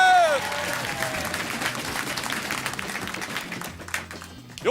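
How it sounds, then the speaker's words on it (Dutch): Audience applause at a Frisian Christmas special TV show, a burst of steady clapping from a crowd that follows a voice and fades out over a few seconds. "Applaus voor deze 3 knappe kappen."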